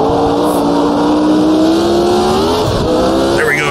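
A Lotus 72 race car engine in the video game Automobilista 2, revving hard and climbing in pitch as it accelerates, loud and close, with a brief shift near the end.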